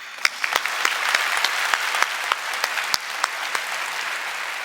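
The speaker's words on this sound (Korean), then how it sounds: "박수 쳐주십시오." A church congregation of young people claps in a steady, lively round of applause, with sharp individual hand claps standing out clearly above the continuous wash of clapping.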